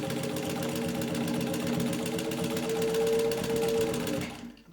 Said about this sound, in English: you can sew right through that